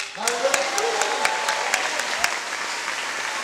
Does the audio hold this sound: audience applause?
yes